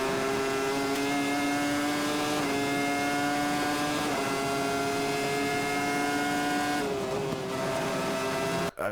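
A Formula 1 car on the Suzuka track screams along in a high gear, its loud, sustained engine note rising and dropping through several short shifts before a quick lift at the end.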